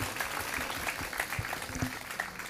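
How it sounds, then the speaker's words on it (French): Audience applause at an award ceremony for top students, a steady, fairly faint patter of many hands clapping with a few louder claps standing out, heard from a distance. "oui, on peut applaudir"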